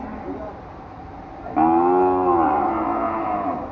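At a cattle fair, a cow gives one loud, close moo lasting about two seconds after a quieter stretch of background noise.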